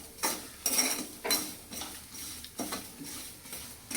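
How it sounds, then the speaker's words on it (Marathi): Peanuts are stirred in salt in a pan, producing a repeated gritty scraping and rattling rhythm from the utensil, close and fairly quiet, with no talk. "आता आपण शेंगदाणे मी त्यात टाकलेले त्याला हलवायचं"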